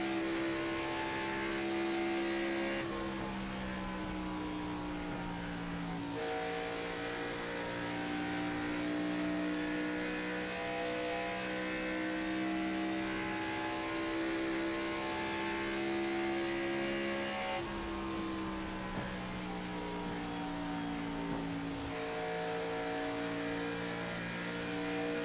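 Race cars in a sim racing game at Charlotte Motor Speedway give a sustained, layered engine whine that shifts pitch as they accelerate and pass, continuous and fairly even in level, with no voices.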